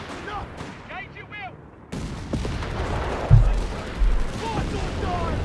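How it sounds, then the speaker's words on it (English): A Black Prince tank in Company of Heroes 3 fires a 17-pounder high-explosive shell, a loud boom with a heavy low thud standing out amid dense battle noise, followed by a second blast moments later. "Black Prince was the pioneers, about to utterly pulverize them there with a 17-pound high explosive shell"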